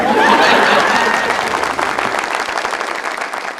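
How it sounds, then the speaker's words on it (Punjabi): Audience applause and clapping at a comedy stage show right after a couplet is recited, a dense, loud burst of many hands that starts strong and slowly thins over a few seconds, with murmurs from the crowd. "ਉਹ ਤਾੜੀ ਵੱਜੀ ਏ, ਉਹ ਤਾੜੀ ਵੱਜੀ ਏ ਜਿਵੇਂ ਐ ਹੁਣ ਨਹੀਂ ਸੀ ਵੱਜਦੀ"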